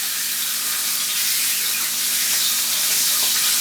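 Quail sears in a hot pan and is flipped over, producing a loud, continuous sizzle that holds steady for a few seconds, with no one talking.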